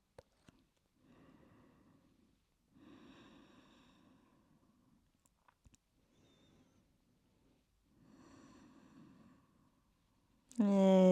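Slow, deliberate yoga breaths come in long soft airy phases, three or four drawn-out inhales and exhales separated by quiet pauses, close and faint, before a sudden loud burst at the end.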